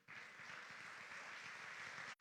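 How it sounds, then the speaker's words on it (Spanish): Church congregation clapping during a sermon, a dense, even wash of applause from many hands that holds steady for about two seconds, then stops abruptly. "denle en palmas a Jesús"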